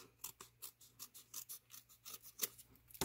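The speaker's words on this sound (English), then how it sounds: "I'm going to go ahead and first trim this excess off of the edge here" Scissors trim excess paper off the edge of a handmade snow front shaker card, a close run of a dozen or so short crisp snips in a quick, slightly uneven rhythm.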